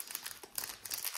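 Foil or plastic wrapping on a chocolate Easter egg crinkles and crumples in quick, close, continuous bursts as it is opened.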